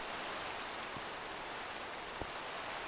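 Steady rain falls in Minecraft, an even hiss of drops continuing throughout with no talking.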